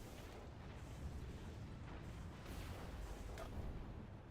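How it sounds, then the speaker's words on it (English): A unit explodes as it goes down in the Zero-K strategy game, heard as faint, distant rumbling booms and bursts low in the mix. "But it does, of course, give a very nice explosion when going down."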